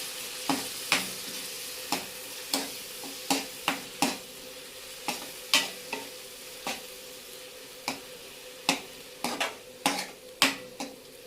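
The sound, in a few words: stir-frying cluster bean masala in oil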